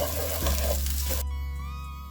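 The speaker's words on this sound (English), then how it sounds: "Now it's time to add the rice in. Add it all in. And stir." Rice stirred and fried in a pan for egg fried rice gives a loud, steady sizzle with stirring scrapes, which cuts off abruptly partway through, leaving a quieter background with faint tonal hum.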